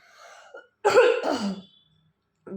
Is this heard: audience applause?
no